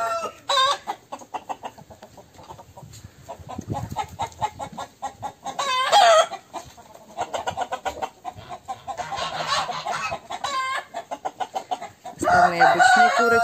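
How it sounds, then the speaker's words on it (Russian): Chickens cluck steadily in a farmyard, with a few louder, sharper bursts of calling breaking through the busy background. "Обычные курочки,"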